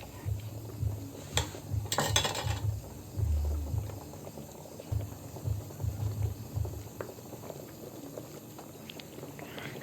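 A pot of fish sinigang soup simmers at a soft bubbling boil, with faint continuous popping and gurgling, a few light clinks, and low rumbles now and then.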